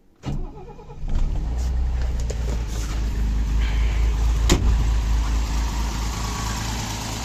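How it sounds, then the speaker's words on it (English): A Mercedes W111 classic car engine with a new EFI system cranks briefly, catches, and settles into a loud, steady rumbling idle, heard up close. "engine is running pretty well no tuning done yet"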